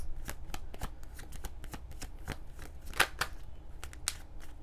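Tarot cards being shuffled and drawn by hand, a quick run of crisp riffling clicks and soft slaps close by, with a sharper snap near the middle and no talking.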